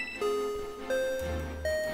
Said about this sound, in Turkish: Evet, zil çalıyor, okul zili.